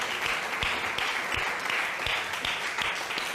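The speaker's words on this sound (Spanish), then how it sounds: "Dele un aplauso fuerte a Él." Church congregation applauding during a sermon, a steady wash of clapping from many people with a few louder, more distinct claps standing out, moderately distant and continuous.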